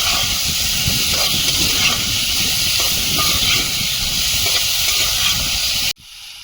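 Potatoes frying in a pan with salt, turmeric, onion and garlic for a tomato and tengra fish curry, giving a loud steady sizzle that runs unbroken and close, then cuts off abruptly near the end.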